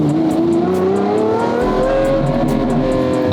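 Lamborghini Aventador SVJ engine revving up to about 4,500 RPM, a loud, close howl that climbs steadily in pitch, with no talking.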